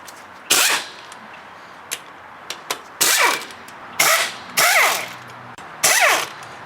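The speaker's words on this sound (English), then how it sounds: "now we're ready to remove the rest of the bolts and take the lower intake manifold off" Bolts come off the lower intake manifold of a 2000 Chrysler 300M in a series of sharp, close ratcheting bursts with short clicks between them, heard alone without talk.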